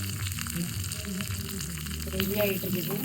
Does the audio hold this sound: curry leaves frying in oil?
yes